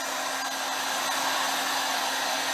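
Air blower pushing a steady, loud stream of air across a wet Stone Coat epoxy countertop being worked into a brown marble pattern, continuous and unbroken with no talk.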